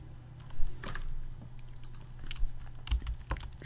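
Keystrokes on a computer keyboard while text is typed into a file, a short scattered run of soft clicks over a low steady background hum, with no talking.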